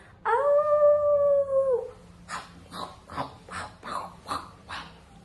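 A very large wolf in a story lets out one long, loud, wavering howl up close, followed by a series of shorter rhythmic growling or panting bursts.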